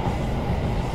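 A container freight train heading from Tanjung Priok toward Kalimas, Surabaya rumbles past in a dense, continuous low roar with no break, heard close from a passing passenger train.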